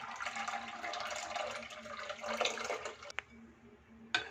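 Water is poured into a blender holding a spice mixture for gol gappa water, a soft running, splashing pour at close range with a couple of sharp clinks near the end.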